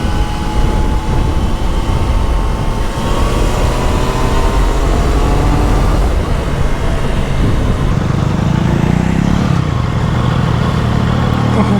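A Triumph motorcycle ridden along a potholed road, its engine droning loud and continuous with shifting pitch and steady wind rush throughout, no talking.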